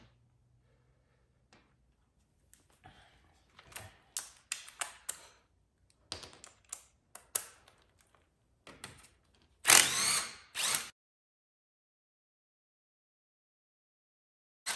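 Ratchet with a size 10 socket working the clutch cover bolts on a Gen 2 Suzuki Hayabusa, heard as short close clicking and rattling bursts in uneven clusters, with a sharper metallic clatter near the end, in an otherwise quiet workshop.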